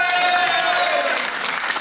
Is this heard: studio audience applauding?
yes